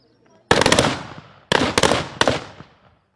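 Police firing practice by women officers at a training centre in Mansehra: three sharp bursts of rapid gunshots about a second apart, loud and close, each one cracking out in quick succession.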